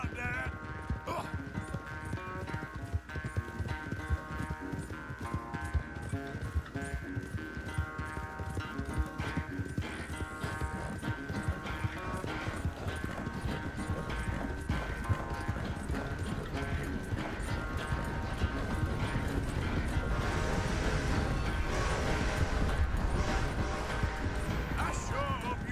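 Steady galloping hoofbeats of a horse being ridden in the Red Dead Redemption 2 video game, a dense continuous clip-clop over game music that holds loud and close for the whole stretch, with voices talking now and then.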